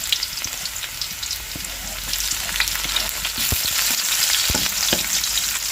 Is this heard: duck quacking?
no